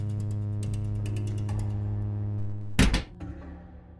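A cartoon electric fan winds down, its steady whirring hum and clicking ticks slowing, then a sharp mechanical clunk as it stops, followed by a few fading rattles.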